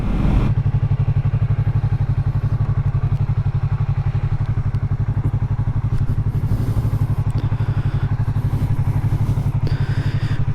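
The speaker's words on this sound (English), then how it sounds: "we got the Yamaha MT-03. That is what I am riding. It sounds decent." A stock Yamaha MT-03 motorcycle engine thrums steadily and close while riding, with a rapid, even pulsing beat and wind noise throughout, with no talking.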